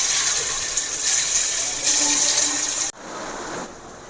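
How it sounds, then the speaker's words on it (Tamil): Marinated chicken 65 pieces fry in hot oil, giving a steady, close hiss that cuts off abruptly and then returns quieter. "இப்போ நம்ம இந்த நல்லா ஊறின இந்த சிக்கனை அப்படி நம்ம போட்டு பொரிச்சு எடுத்துடலாம்."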